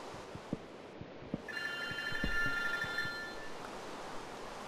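A telephone rings in the Minecraft video game: a steady, bright electronic tone holding for about two seconds over soft background game noise and light thumps.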